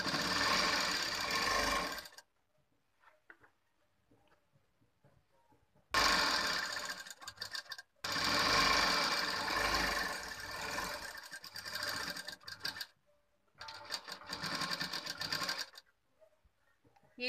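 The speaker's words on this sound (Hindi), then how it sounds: "यहाँ पर हम सिलाई लगाएंगे।" A sewing machine stitches the seams of a blouse in long, steady motor-driven runs. The runs are separated by short pauses, and the machine sounds close and fairly loud with no talking.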